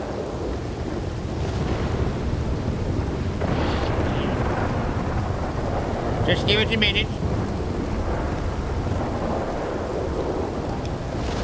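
Thunder rumbles and rain hisses steadily throughout, a loud continuous storm wash with a brief brighter burst midway, and a voice speaks briefly over it.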